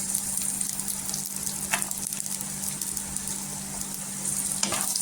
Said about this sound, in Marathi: इथे तेलावर आहे ना परतून घ्यायचं. इथे पहा शेंगदाणा पण छान असं गोल्डन करून घ्यायचं